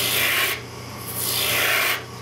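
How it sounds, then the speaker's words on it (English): A 3/4 inch gouge roughs out a wooden chair leg spinning on a lathe, giving a loud, close, hissing rasp in two long strokes with a brief softer pause between them. "Now I'm going to go back to the 3/4 inch gouge and rough out the turn."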